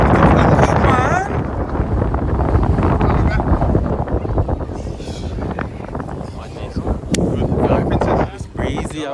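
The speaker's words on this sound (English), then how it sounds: "It's breezy out here." Strong wind buffets the microphone outdoors on a Sunday League football pitch, a loud continuous roar with gusts, while players shout and talk across it.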